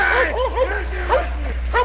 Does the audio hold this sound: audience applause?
no